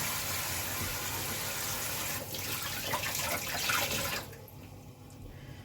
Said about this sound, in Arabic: قشرناه بالطريقه اللي انتوا شايفينها دي، وهنديله شطفه كده